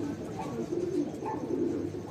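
Dudhiya bajra pigeons, a male among the pair, coo in soft, low repeated phrases close by, with a steady murmur of the loft in the background and no speech.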